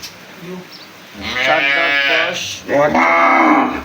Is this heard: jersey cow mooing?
yes